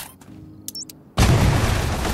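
A medium bomb goes off in the puzzle game Cefore: a short quiet stretch with a couple of small clicks, then a sudden loud boom that rolls into a sustained, dense rumble lasting to the end.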